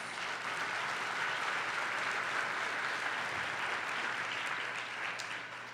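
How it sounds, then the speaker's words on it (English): Steady, even applause from an audience at a State of the Schools event, moderately distant and continuous throughout with no talk over it. "Yes, that's worthy of applause."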